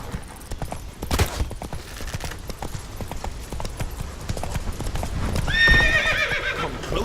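Horse hooves clip-clop in a rapid galloping rhythm in The Witcher 3 video game, close and loud throughout, ending with a horse's whinny near the close.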